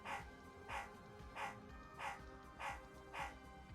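Barking of a robot dog: six evenly spaced, mid-pitched synthetic barks, about one every half second, fairly faint over a low droning background.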